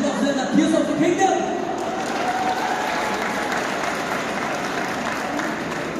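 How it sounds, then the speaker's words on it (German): Audience applause at a cosplay contest, a loud sustained wash of clapping from a sizable crowd that holds steady for several seconds, with a voice over a loudspeaker at the start. "Und nun ein letztes Mal ein kräftiger Applaus"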